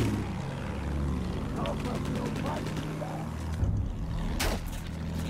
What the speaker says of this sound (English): Oh, there's a plane.